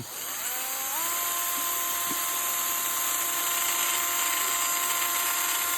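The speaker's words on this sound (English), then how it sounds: "Just drill straight down." A small power drill boring a hole into a doll whines steadily and close, its pitch rising as it spins up, then holding a continuous high buzz throughout.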